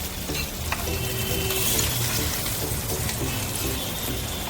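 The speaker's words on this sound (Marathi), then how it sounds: "आता आपण सुरमई पलटी करत आहोत।" Surmai fish flipped in a pan of hot oil, continuous loud sizzling with a brief scrape of the turn and bubbling spatter, close and without talk.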